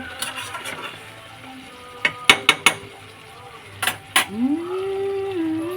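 A lid set onto a cooking pot of katla fish-tail curry, a few sharp metallic clinks and clatters close by, followed by a rising simmering tone.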